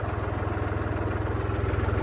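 Tractor engine idling on a farm during potato digging, a close, steady low diesel throb with even rapid pulsing and no voices.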